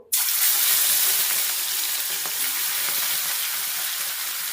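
Fish marinated in salt and turmeric goes into hot oil for macher jhal, bursting at once into a loud, dense sizzle that stays steady and close with no voices.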